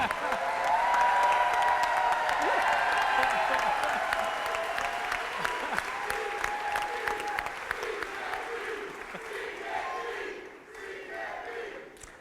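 Applause and cheering fill a press conference room, a sustained crowd roar with voices and whoops over it, gradually easing off toward the end.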